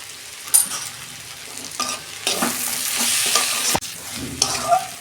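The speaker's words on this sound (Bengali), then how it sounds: "আর ভালো করে 2 মিনিট আমি কষাবো" Snake gourd and potato stir-fried with a little sugar in a pan, a steady sizzle broken by repeated scraping stirs of a spatula, close and fairly loud, with no talking.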